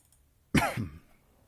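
One short, sharp cough, close and clear, with a quick second burst right after, in a quiet room.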